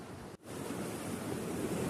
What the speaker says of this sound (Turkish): Yağmur sonrası sakin duran doğanın ve denizin hırçınlığı.